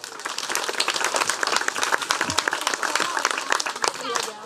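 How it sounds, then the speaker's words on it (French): Audience applause at a magic and mentalism show for Sarah, a volunteer brought on stage, at the Estivales 2023 at Pairi Daiza; dense, steady clapping from a crowd nearby, lasting throughout with cheers mixed in. "On peut l'applaudir très fort"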